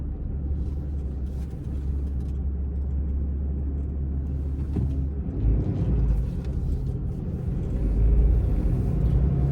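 A big truck rumbles nearby while negotiating a turn, a low, steady engine drone that swells slightly toward the end.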